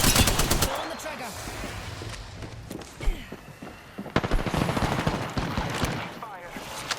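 Automatic gunfire in Apex Legends, loud bursts of rapid shots at the start and again later, with game effects and scattered sounds in between.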